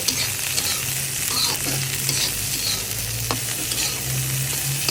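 Garlic and chopped onion fry in a pan with a steady, close sizzle and occasional stirring clinks, no voices over the continuous crackle.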